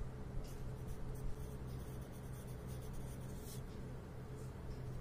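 Numbers being written by hand during a Class 3 fractions maths lesson, a steady soft scratching of pen or pencil on paper that runs continuously and fairly quietly over a constant low background hum.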